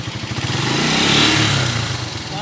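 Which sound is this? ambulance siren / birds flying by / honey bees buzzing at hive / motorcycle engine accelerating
motorcycle engine accelerating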